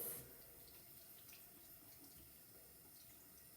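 Steady running tap water pours continuously into a sink while something is rinsed, a constant moderate splashing hiss with no voices.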